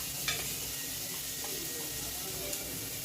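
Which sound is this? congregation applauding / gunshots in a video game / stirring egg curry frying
stirring egg curry frying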